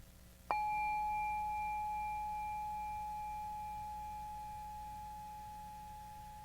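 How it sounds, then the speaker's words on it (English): A meditation bell struck once, a single clear ring with a sharp attack and a long, steady sustained tone that decays slowly over several seconds, heard alone in a quiet room. "I'm going to ring the bell"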